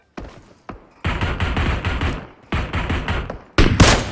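Gunfire in the mobile battle royale game PUBG Mobile comes as several close, loud bursts of rapid shots separated by short gaps, with a few single thumps at the start and no talk.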